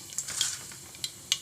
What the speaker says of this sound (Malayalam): കടുകിട്ടു,